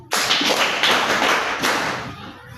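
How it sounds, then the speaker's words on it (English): Classroom students burst into applause, a dense, loud patter of many hands clapping close by that holds steady for about two seconds before tapering off. "Okay, thank you. Clap for it."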